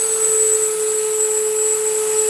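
A rotary tool fitted with a burr whines steadily at a constant high pitch while rounding out carved eyeballs, running alone without pauses.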